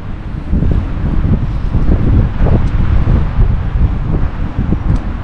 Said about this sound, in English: the wind now is scooting over the top of us.